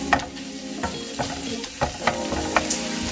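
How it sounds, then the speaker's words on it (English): Pork stir-fried in a pan gives a close, steady sizzle, with spatula scrapes and clacks against the pan at a regular pace. "stir fry the pork"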